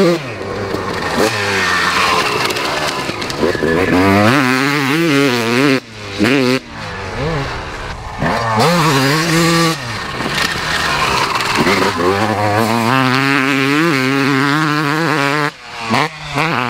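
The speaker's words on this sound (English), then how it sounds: "What do you think to his new bike? Sounds naughty." A 1996 Honda CR250 two-stroke motocross bike revs loudly and close by, its engine climbing and falling through repeated rising throttle blips with short pauses between bursts.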